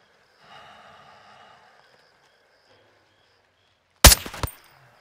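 Sniper rifle fire in Call of Duty: Modern Warfare II, heard as a sudden loud crack followed closely by a second shot after a stretch of near silence with faint ambient noise, then a short fading tail.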